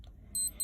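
A SMAEL TANK digital wristwatch gives two short, close, high electronic beeps as its alarm is switched off, with a faint click just before them.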